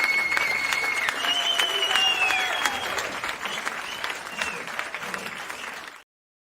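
A crowd at a cybersecurity event greets its hosts with strong, sustained applause that slowly fades out, with a few whoops and whistles rising above the clapping.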